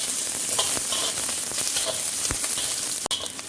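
Green chillies, onion and garlic sizzle steadily in a hot pan, a close, continuous frying hiss broken by occasional stirring clicks and one sharp knock near the end.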